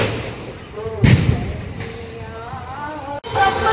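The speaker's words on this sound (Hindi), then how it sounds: "पटाखा तो चलता रहेगा" A sharp firecracker bang goes off at a Chhath Puja morning gathering, followed by a fainter pop, with someone talking between the bursts.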